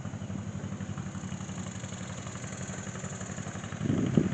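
A 1938 John Deere general purpose tractor at a steam and gas engine show, its engine idling with a steady low, even throb, fairly faint, rising slightly in loudness near the end.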